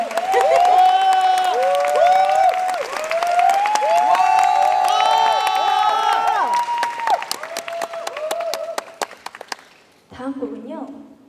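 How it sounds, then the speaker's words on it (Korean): A festival concert crowd at COEX roars with shouts, whoops and cheering, scattered claps cutting through toward the end before the noise dies and a voice briefly speaks. "어떠셨으면 박수 한번 부탁드릴게요"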